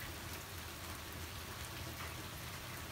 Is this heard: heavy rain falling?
yes